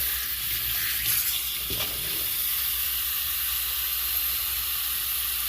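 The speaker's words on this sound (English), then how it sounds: "So let's go ahead and put water in here." Water being poured into a cooking pot while preparing pork pozole verde, a steady hissing rush of water that continues evenly and moderately quietly throughout.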